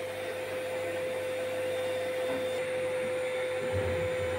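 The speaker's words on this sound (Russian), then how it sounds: "Сейчас закончится на пылесосе, не волнуйся." A vacuum cleaner runs steadily indoors with a constant whine and a broad hum, holding an even level throughout and never stopping. No one talks.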